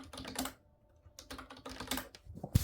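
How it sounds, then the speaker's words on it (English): Quick, light keystrokes on a computer keyboard come in irregular bursts with brief pauses, close and fairly quiet, with no talking. "Wait, let me type it in."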